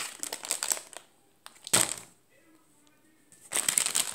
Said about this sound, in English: look at the lovely bag before I rip it